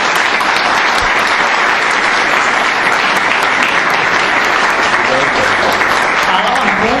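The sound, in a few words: audience applause welcoming the speaker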